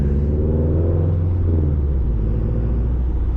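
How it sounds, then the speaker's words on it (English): A 350 hp Subaru WRX fitted with a Tomei titanium exhaust, its engine heard close up as a loud, steady low rumble that swells slightly mid-way, with no talking. "Give it one more rev right here"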